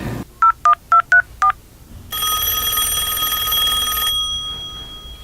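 Five quick dual-tone telephone keypad beeps are dialed, then a steady ringback-style tone sounds for about two seconds, close and clear with no one talking.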